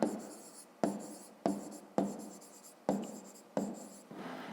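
A pen writing on paper in a fifth-grade maths exercise, close and quiet, with repeated scratchy strokes each starting with a soft tap, in a steady rhythm of short bursts about every second.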